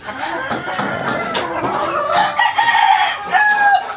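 Chickens, including pullets and laying hens, cluck steadily nearby while a rooster lets out drawn-out crows, loud and close, with no talking.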